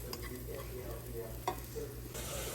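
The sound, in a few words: breadcrumbs sautéing in a pan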